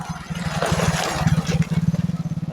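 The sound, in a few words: motorbike passing by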